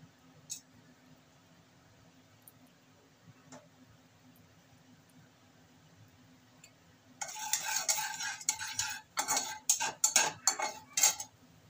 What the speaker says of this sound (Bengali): আমি এবার গোটা জিরে আর লবঙ্গ, এলাচ আর দারচিনি ফোড়ন দিয়ে দিচ্ছি।